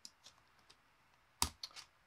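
Keys on a computer keyboard click in a quiet room, a few faint taps followed by a sharper, louder keystroke and two more light clicks close together.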